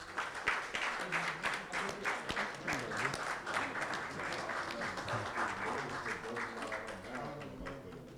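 An audience at a ghazal and poetry evening in Doha, Qatar applauds in a sustained wash of clapping that swells and fades, with a voice speaking over it.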